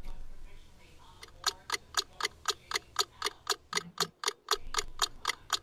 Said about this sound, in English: Clock.